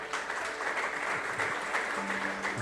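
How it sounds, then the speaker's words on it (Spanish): A church congregation clapping during a Spanish-language worship service, a brief steady patter of many hands at moderate distance. "Dele un aplauso a Jesús"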